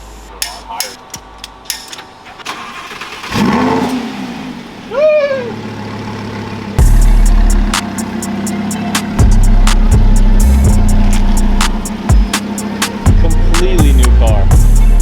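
Lamborghini Huracan on newly fitted Ferrada wheels starts with a loud bark, then its engine idles and revs in deep bursts nearby as it pulls out into the sun, with sharp knocks and clanks at the start.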